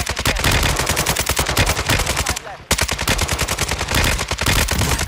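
Rapid machine-gun fire in a video game rattles loud and close in tight, even bursts, with a brief pause midway before the shooting resumes.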